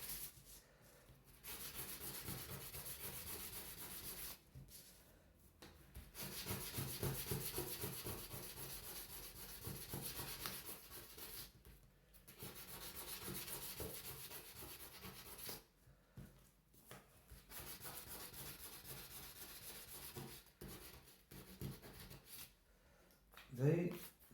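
Faint, steady rasping of hand sanding on wood, in long rubbing stretches broken by short pauses.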